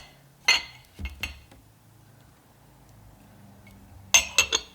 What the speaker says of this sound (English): I'm first going to start with the tea kettle, and then I'm going to add my cups